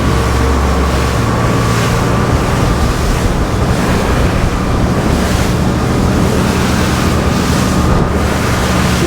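A SACS 42 RIB motorboat speeds up at sea, a loud continuous roar of engine, rushing water and wind buffeting the microphone, unbroken for several seconds.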